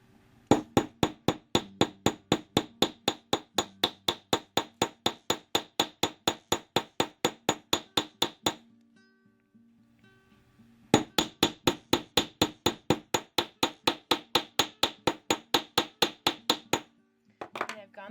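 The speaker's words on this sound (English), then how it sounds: "we're going to go through and hammer" Craft wire wrapped around a stone is hammered with rapid, evenly spaced sharp taps, close and crisp, in two long runs separated by a short pause, with a few final taps at the end.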